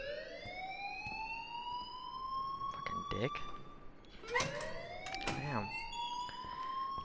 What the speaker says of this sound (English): please turn off that alarm since that's your